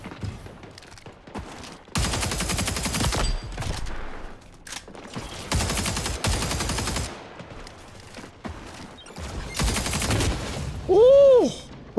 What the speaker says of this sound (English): Oh, he has a shotgun.